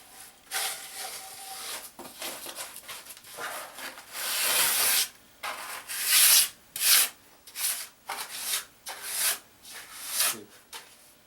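Cement being troweled and smoothed for a basement shower pan: rough scraping and rubbing strokes in irregular bursts, close and fairly loud, with short pauses between passes.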